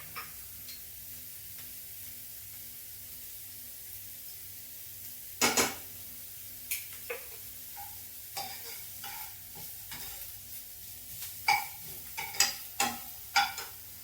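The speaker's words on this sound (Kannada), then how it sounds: "ಸ್ವಲ್ಪ ಜಿಂಜರ್ ಗಾರ್ಲಿಕ್ ಪೇಸ್ಟ್ ನಾನು ಮನೆಯಲ್ಲೇ ಮಾಡ್ಕೊಂಡಿರೋದು, ಇಷ್ಟನ್ನು ಹಾಕ್ಕೊಂಡು ಸ್ವಲ್ಪ ಹಾಗೆ ಲೈಟಾಗಿ ಬಾಡಿಸ್ಕೊತೀನಿ." Homemade ginger garlic paste sautéing lightly in a pan, a soft steady sizzle under intermittent clinks and scrapes of a spoon stirring against the pan, with no talking.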